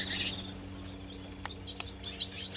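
Small birds, a cock and hen, chirp near a nest in scattered faint tweets over a steady low hum.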